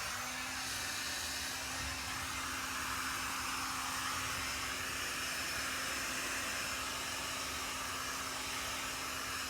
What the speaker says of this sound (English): Pull out the heat gun.